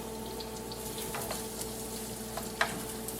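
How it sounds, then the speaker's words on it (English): Onions sauté in a pan: a quiet, steady sizzle continues under a low background hum, with a few soft ticks and one sharp clink near the end, and no voices. "Now I'm going to put my onions in first, and then after a few minutes I will add my garlic"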